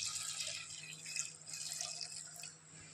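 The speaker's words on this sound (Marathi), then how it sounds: "आता आपण त्यामध्ये पाणी टाकू." Water poured into a vessel of washed toor dal and spinach in a home kitchen, a quiet, continuous splashing stream that stops abruptly at the end.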